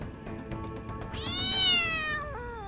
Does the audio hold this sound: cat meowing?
yes